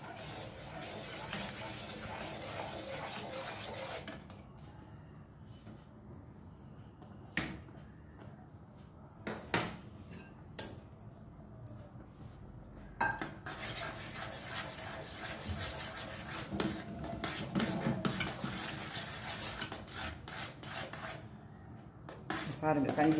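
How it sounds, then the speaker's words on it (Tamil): Rice-grit porridge (kanji) cooks in a pot while a spoon stirs it, producing quiet scraping with sharp intermittent clinks against the metal, faint and close, with busier stirring toward the end. "200 கப்பியை இதில் போட்டு நான் கஞ்சி காய்ச்சிறேன்"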